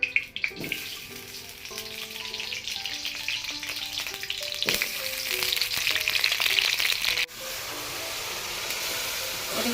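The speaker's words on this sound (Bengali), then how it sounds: "আমি বিরিয়ানির আলুটা ভাজি নেব।" Potatoes for biryani fry noisily in a hot wok, a loud crackling sizzle that swells in the middle, with scraping stirs and a faint melodic tone in the background.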